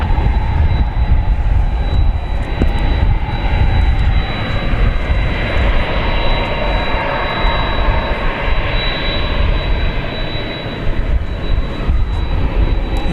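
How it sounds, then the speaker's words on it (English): A four-year-old UPS Boeing 767-300 freighter, Flight 793 to Louisville, sits at Dallas Fort Worth at night, its engines giving a loud, steady roar topped by a thin, sustained high whine. "that whine you hear in the background is this, Flight 793 to Louisville, the UPS 767-300 freighter"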